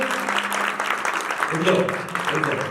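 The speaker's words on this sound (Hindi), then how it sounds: "जोरदार ताली बजा।" Loud clapping rises from the crowd at a religious gathering, a short burst of steady applause with a voice briefly calling out over it midway.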